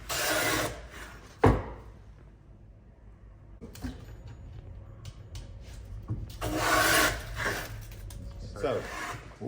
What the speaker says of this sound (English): what I'm doing now is planing to my gauge line